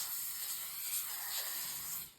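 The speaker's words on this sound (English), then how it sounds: "Grease with some cooking spray." Cooking spray hisses from an aerosol can onto a foil-lined baking tray, one steady close burst of about two seconds that cuts off abruptly at the end.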